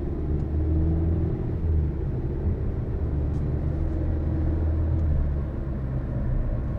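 A Cupra Formentor 1.5 TSI 150 hp with DSG gearbox accelerates gently, giving a steady interior engine drone and road rumble whose pitch rises and settles with smooth shifts, and there is no talk.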